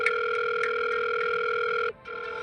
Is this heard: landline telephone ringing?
yes